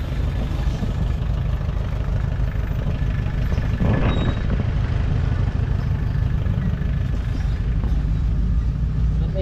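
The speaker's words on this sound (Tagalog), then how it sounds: "Traffic no." Steady street traffic in Malate, Manila, with idling car and truck engines rumbling continuously nearby, a dense low hum throughout and a brief louder swell midway.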